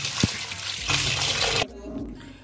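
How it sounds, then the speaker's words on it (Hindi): Water pours and trickles off rinsed poha as it is drained from a bowl, a close splashing flow that stops abruptly near the end, leaving a quieter background. "पानी से इसे पूरे को भर लेना है और ऐसे इसे निकाल देना है"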